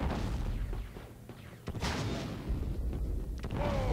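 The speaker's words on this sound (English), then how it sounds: "Trying to throw a grenade." A grenade detonates in the Star Wars Battlefront II video game, giving a couple of sharp, booming bursts over steady battle noise and game ambience.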